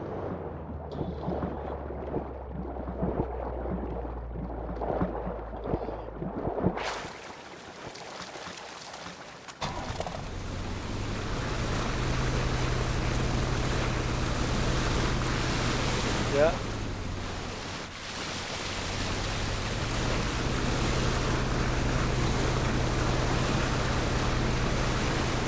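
Motorboat in PLAYERUNKNOWN'S BATTLEGROUNDS, its engine droning steadily over splashing water and rushing wind, fairly loud and continuous through the second half after a quieter opening.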